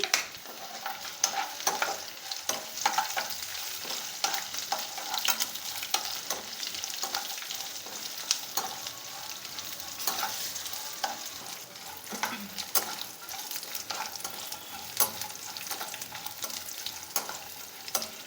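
Crushed garlic fries with okra in a pan, a steady close sizzle that runs without pause, with scraping and stirring clicks throughout and no voices.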